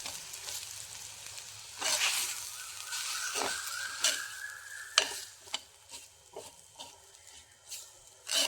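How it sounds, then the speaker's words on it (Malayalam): Chilli powder and spices being stirred in a hot pan for a tangy Kerala fish curry: a gentle sizzle under irregular scraping strokes of a spoon against the pan, close and clear, with no talk. "ഇനി ഇതെല്ലാം കൂടി ഒന്ന് ഇളക്കി കൊടുക്കാം."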